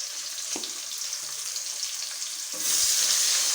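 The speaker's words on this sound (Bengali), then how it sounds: "দিয়ে পেঁয়াজটাকে ভালো করে ভাজবো।" Two medium chopped onions frying in hot oil, a steady bright sizzling hiss that surges louder partway through and keeps going alone, with no talking.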